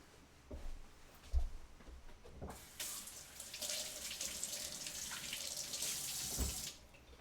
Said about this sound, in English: So let's probably want to rinse these.